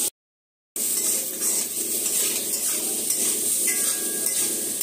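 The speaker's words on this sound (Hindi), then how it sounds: "आलू फ्राई हो रहा है, और ये अदरक लहसुन डाल दिया है" Potatoes frying in a pan with ginger and garlic added, a steady close sizzle with occasional stirring scrapes, continuing after a brief silent gap at the start.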